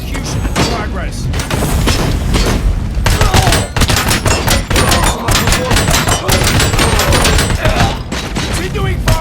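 Sustained gunfire fills a firefight in Robocop Rogue City, with dense rapid bursts, booms and thuds rolling continuously at close range, and a voice speaking over the shooting.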